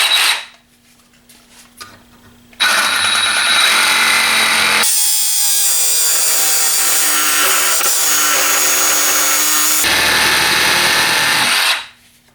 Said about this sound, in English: I decided instead of using a standard hacksaw, I'm going to go ahead and use the Milwaukee M12 fuel hacksaw